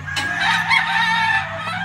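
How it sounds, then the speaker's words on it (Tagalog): A white Kelso gamefowl brood cock crows at a gamefowl farm, one loud, close, drawn-out call lasting nearly two seconds, heard alone. "This is the brood cock."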